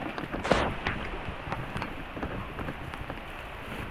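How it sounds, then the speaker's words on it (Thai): Heavy rain pouring at night in the jungle, a dense steady hiss of drops with scattered louder splats and a brief sharper burst near the start, close and continuous. "ฝนตกแล้วพี่น้องเลย"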